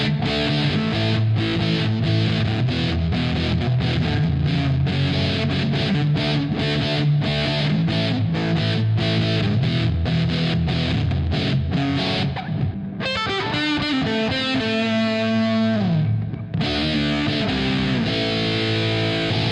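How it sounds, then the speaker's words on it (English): Heavily fuzzed electric guitar through a Death by Audio Fuzz War pedal plays loud, saturated chords and riffs, then shifts into a sustained, buzzing melodic line before the crunchy chords return. "Death by Audio Fuzz War, which is just a glorious fuzz pedal"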